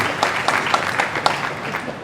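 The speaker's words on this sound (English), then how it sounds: "Big round of applause for Jonas." Applause at a startup pitch competition in an expo hall, a modest burst of clapping with a few sharper claps every quarter second, moderately loud and fairly close, continuing steadily for about two seconds.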